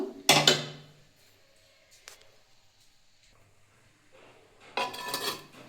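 Spoon scraping and knocking in a pan while stirring a cauliflower and prawn curry: a loud burst of clatter at the start, brief taps in between, then another scraping burst near the end.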